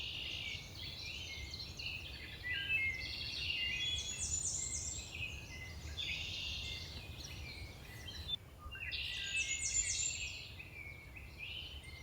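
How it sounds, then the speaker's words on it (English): Several birds chirp and trill high and bright in the woods, overlapping calls rising and falling with a soft low background hum. "listening to all the different birds"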